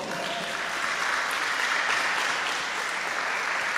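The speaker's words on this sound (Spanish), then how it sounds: "denle un aplauso a Cristo," A church congregation applauds, a dense, continuous wash of clapping from many people, steady and fairly loud throughout without any voices over it.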